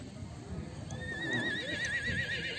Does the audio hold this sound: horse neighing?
yes